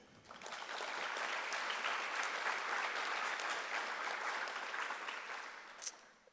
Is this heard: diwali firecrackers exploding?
no